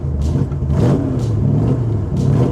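A Shelby car engine runs at a loud, steady idle with a low, burbly rumble and slight swells in revs.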